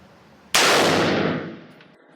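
A single loud rifle shot at a shooting range: one sharp, close crack that rings out and fades over about a second, with no voices.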